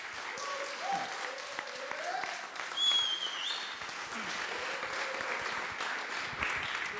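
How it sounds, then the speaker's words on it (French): Audience applause at a data science demo day, moderate clapping from a crowd continuing for several seconds with faint voices mixed in. "On applaudit Charlotte, Benoît et Philippe."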